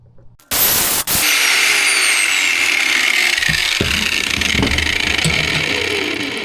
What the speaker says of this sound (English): Let me see if I can may grind it from the top.